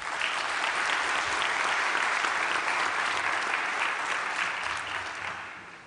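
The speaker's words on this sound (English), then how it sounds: "I want us to salute with a round of applause the families and friends." Sustained applause from a large audience at a university graduation ceremony for the Faculty of Law in Gqeberha, steady and dense for several seconds before starting to fade near the end.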